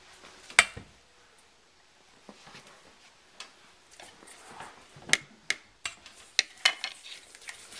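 Meatloaf ingredients, including packed brown sugar, are mixed in a bowl, producing a sparse series of light clicks and taps from a utensil, close but quiet, with no one talking.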